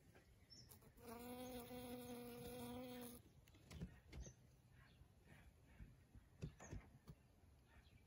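A bee buzzes among flowering ice cream bean blossoms in a garden, one close, droning buzz for about two seconds followed by faint rustles and distant bird chirps.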